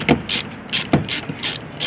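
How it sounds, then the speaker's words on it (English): A hand ratchet clicks in short, quick bursts while backing out a 10 mm factory screw on a BMW XM, several crisp close-up ratcheting runs separated by brief pauses. "we're going to take that factory screw out."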